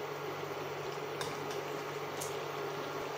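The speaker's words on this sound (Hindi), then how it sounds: "तो आप देख सकते हैं हमारा जो पानी है वो अच्छे से बॉईल हो चुका है" Water boils in a kadhai, ready for steaming khaman, giving a steady bubbling hiss at constant loudness with a couple of faint clicks and no talking.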